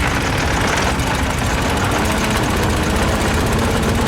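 A 1904 Mitchell Light Car's early engine running while driving in second gear: a steady, loud, rough chugging rumble with a rattling mechanical clatter throughout.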